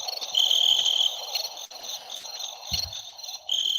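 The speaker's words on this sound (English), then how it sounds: "Crickets." Crickets chirp steadily on their own, a continuous high trilling that swells and dips throughout, with no voices over it.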